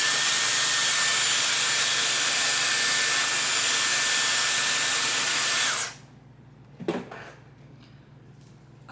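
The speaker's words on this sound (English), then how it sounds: "I was just going in and out so that way I can get the entire strand of hair completely dry" Dyson Airwrap blowing hot air to dry hair, a loud steady whooshing whine that runs for about six seconds, then cuts off, leaving quiet room tone and a brief handling clunk.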